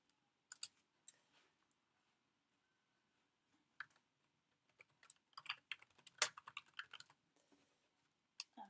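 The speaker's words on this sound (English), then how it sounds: "Excuse me typing away" Sparse, then rapid clicks of fingers typing on a computer keyboard, close and quiet, with a few isolated taps followed by a busier burst of keystrokes in an otherwise silent room.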